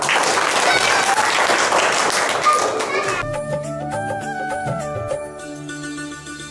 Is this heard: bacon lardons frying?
no